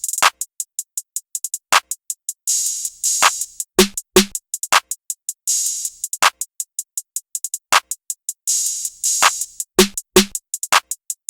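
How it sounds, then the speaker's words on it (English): Programmed trap drum pattern with rapid, steady closed hi-hat ticks, sustained open hi-hat hits, a snare and a clap landing together on backbeats, looping crisply and alone, with no voice. "we have the open hi-hat on this line right here, the snares on the bottom line, the clap right here, and the hi-hat, the closed hi-hat up top"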